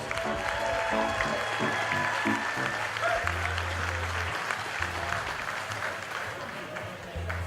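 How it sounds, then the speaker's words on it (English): Audience applause at an Irish festival gathering, steady clapping mixed with low sustained music tones and some background voices. "Let's give them a round of applause."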